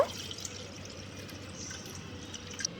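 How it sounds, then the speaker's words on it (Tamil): Water pours steadily into a cooking pan, a continuous soft splashing stream heard close up with no talking, at the start of making soya chunk gravy. "ஒரு பேனில் தண்ணி சேர்த்துக்கோங்க."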